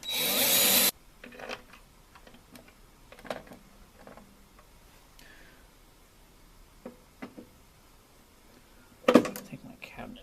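A loud power drill driving a screw whirs briefly at the start, followed by light ticks and clicks of handling tools while someone talks nearby.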